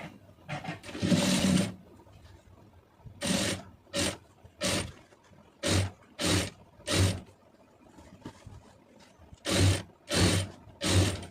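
Sewing machine stitching piping onto fabric, running in repeated short bursts of mechanical whirring separated by brief pauses, close and clear with no talking.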